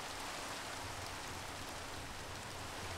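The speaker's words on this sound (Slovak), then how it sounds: "Ale už by mohlo prestať pršať" Steady, dense rain hisses continuously in the Minecraft game world, an even wash of falling water with no breaks and no voices over it.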